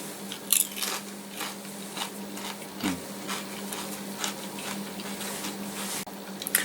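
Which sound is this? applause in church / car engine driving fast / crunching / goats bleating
crunching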